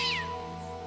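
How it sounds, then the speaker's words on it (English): A single cat meow sounds loud and close at the start, then fades over under a second, with no talking over it. "Gosh, what kind of a cat was that?"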